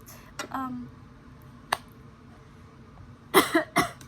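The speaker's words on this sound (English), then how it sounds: "Coughing." A few faint clicks and a short tonal sound, then a pair of quick, close coughs near the end over quiet room noise.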